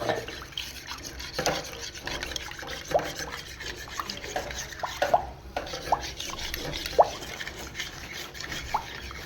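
Raw mango juice is stirred in a vessel, a busy wet swishing with small splashes and occasional clinks, continuous and close for several seconds.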